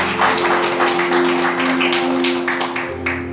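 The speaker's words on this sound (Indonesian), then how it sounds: "Tepuk tangan untuk Tuhan." A church congregation gives a burst of applause, many hands clapping loudly and fairly near for a few seconds, with a faint hum underneath, before the clapping tapers off.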